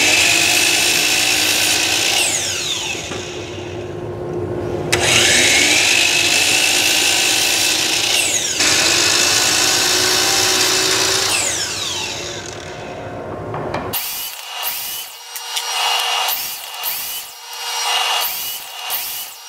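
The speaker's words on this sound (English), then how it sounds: "we're gonna go to the miter saw and nip the corners off on one end on all of the pieces" A miter saw nips the corners off wooden pieces for a folding table, long grinding cuts with the blade whining up and down, then a run of shorter choppy bursts.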